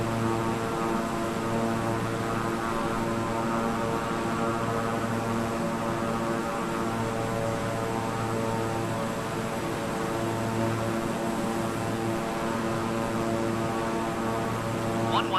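A Beechcraft propeller plane climbing after takeoff, heard from inside the cabin as a loud, steady engine drone with pulsing propeller tones throughout.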